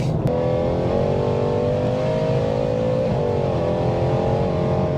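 A 780 bhp supercharged Weistec Mercedes C63 accelerates hard, its engine note rising in a loud, close, sustained drone with a brief dip at a gear change and no talk.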